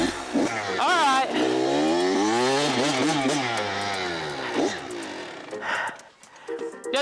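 Dirt bike engine revving hard during a wheelie, a loud, rising and falling buzzing whine that holds for several seconds before fading, with brief voices near the end.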